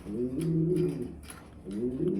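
Pigeons coo in soft, throaty, repeated phrases nearby, with a short pause between bursts, at a pigeon farm including Lahori pigeons.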